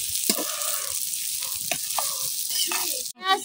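Small shrimp frying with onion in a pan, a loud continuous sizzle close up with stirring, while a person speaks over it and a brief scrape sounds near the end.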